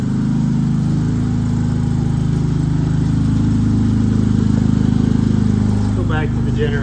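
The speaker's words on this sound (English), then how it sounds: "We're running on generator power now." A Predator 3500 portable generator runs in a garage during a power outage, sending out a loud steady close engine drone with a constant rhythmic pulse that holds without change; a voice briefly joins near the end.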